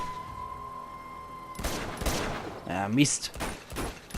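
Gunfire erupts in the video game Uncharted 2 in a few loud, sharp bursts after a steady tone. Someone speaks in German between and over the shots.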